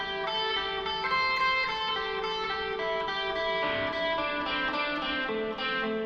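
Electric guitar with a light effects tone picks a blues pentatonic scale in steady triplet groups with alternate picking, a continuous run of quick single notes played up close with no talking.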